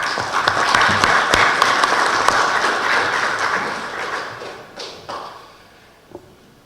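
A lecture audience at a Supreme Court of Justice claps loudly and densely to welcome law professor Jordi Nieva-Fenoll, with crisp individual claps in the mix. The applause holds steady for several seconds, then thins and fades to a few scattered claps.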